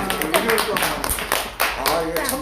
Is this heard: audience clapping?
yes